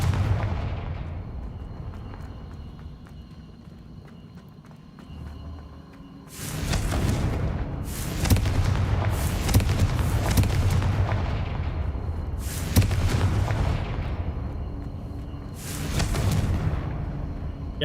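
Confringo blasting spells explode in the Hogwarts Legacy video game: a quiet rumbling lull gives way to six loud, sharp booms, each with a roaring decaying tail, coming in irregular bursts over a constant low background.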